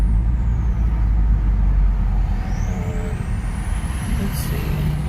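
A Lexus IS350 with a throttle idle fault idles low at around 500 RPM, a loud, steady, deep engine rumble that fills the clip, with a faint rising whine passing over it.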